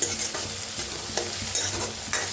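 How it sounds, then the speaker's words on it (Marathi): Chopped tomatoes and onion sautéing with dal in a pan give a soft continuous sizzle, with periodic scraping stirs of a spatula heard up close. "आता टमाटो कांदा छान असा भाजला आहे"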